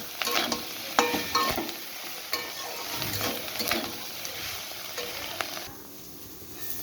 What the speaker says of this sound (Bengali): আর দু তিন মিনিট আমি নাড়াচাড়া করে তখন নামিয়ে দেবো